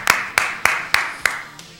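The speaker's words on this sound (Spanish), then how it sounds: "Vamos a pedir Nicolás una aplauso para Nico, ¿eh?" A few people clap in a radio studio: five sharp, evenly spaced claps close to the microphone, then a softer trailing one.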